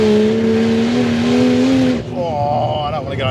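Tuned Ford Falcon XR6 Turbo making 450 kW, driven hard at speed over a bumpy road, its engine droning loud and steady with a rising whine before easing to a lighter, fluttering note.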